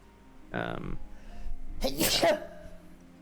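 A short vocal sound, then a loud, sharp sneeze bursts out close by, followed by a brief murmur of voices.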